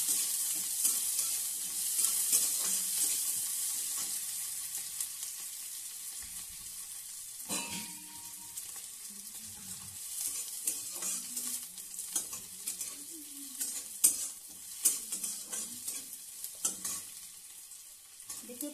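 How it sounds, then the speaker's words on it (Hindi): Onion and green chili frying in mustard oil, bright crackling sizzle that is loud at first and then settles lower, with repeated spatula scrapes and stirring clinks, no talk. "इसमें प्याज, प्याज और मिर्चा को फ्राई कर लेते हैं"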